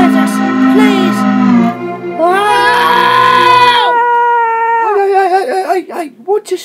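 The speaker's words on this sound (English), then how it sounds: "Hey, what you screaming for?" A cartoon character screams in fright, a loud, high wailing cry rising and breaking over several seconds, close and alone, ending in choppy sobbing gasps.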